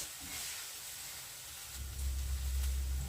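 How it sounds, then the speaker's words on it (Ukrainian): Onion frying in hot oil in a pan, a soft steady sizzle and hiss that deepens into a fuller, louder crackle partway through, with no voices. "висипаємо спочатку цибульку і підсмажуємо до прозорості"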